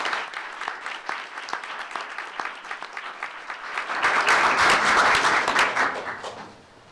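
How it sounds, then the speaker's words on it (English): An audience at a school board meeting applauds teachers and students, with moderate clapping that swells louder and fuller midway before quickly dying away. "Let's give them a round of applause."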